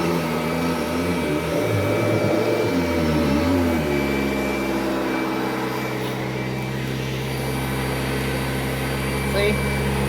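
A 1991 Kirby Generation 3 upright vacuum cleaner runs steadily with a loud, continuous motor whine and a shifting pitch as it is pushed under a chair, with a person talking over the drone.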